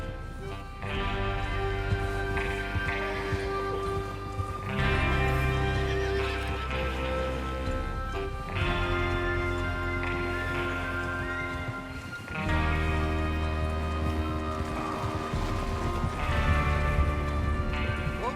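Galloping hooves pound along in rhythmic surges amid a busy Red Dead Redemption 2 game soundscape, with horses whinnying and snorting over the drumming beat.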